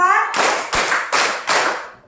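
Class of children clapping hands in time with a counted rhythm, four distinct group claps spaced evenly, close and loud, following a brief spoken cue.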